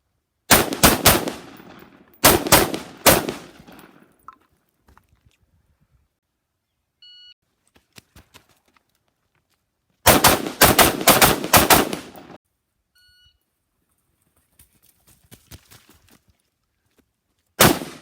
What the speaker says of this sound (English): then we'll take some shots at the target that's right beside the camera